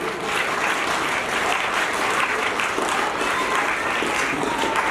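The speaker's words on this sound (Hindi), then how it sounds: "ताली बजाओ अपने आप के लिए।" Children applaud at a school farewell program, a loud and sustained crowd of clapping hands that stays even from start to finish.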